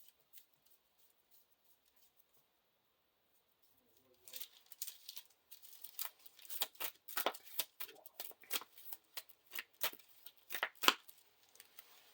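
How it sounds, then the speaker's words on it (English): After a few seconds of silence, playing cards from a Lord of the Rings card game encounter deck are shuffled close by in quick riffles and snappy flicks that keep going in bursts. "Shuffle the encounter deck."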